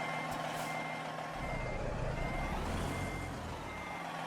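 A Freightliner FLD truck in American Truck Simulator maneuvers slowly, its reversing beeps sounding in a steady repeating pattern over a low engine idle, fairly faint and with no talk.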